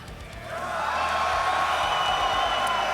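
A large esports audience at a Counter-Strike Major playoff in Munich cheers and whoops in response to the host, a steady roar of crowd noise swelling after a brief lull and staying loud throughout.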